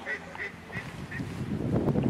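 A few nasal duck quacks come in a loose series, fairly close, followed by rising rustling and background noise as a voice talks faintly.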